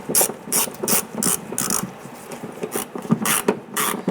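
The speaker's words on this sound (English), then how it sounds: "let's go ahead and install our 7mm screw" A ratchet clicks in quick bursts as it drives a 7mm screw into the rear inner fender liner of a 2005-2010 Chrysler 300, several rapid close-up ratcheting runs separated by short pauses.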